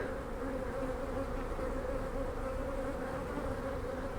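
Steady, dense buzzing of many honey bees close by at an open hive, a continuous drone with no pauses.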